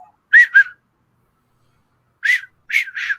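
Short whistled up-down calls, two quick ones, a pause, then three more, clear and close against silence, a person imitating calls heard in the woods attributed to Bigfoot.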